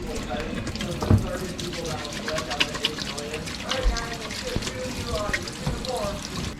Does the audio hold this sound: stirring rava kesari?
no